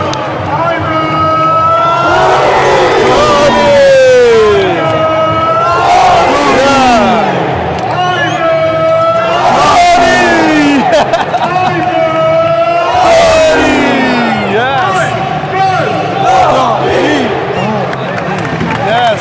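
A football stadium crowd roaring and chanting after an Al Ahli win over Al Riyadh, loud and continuous, with whistles, horns and voices rising and falling throughout.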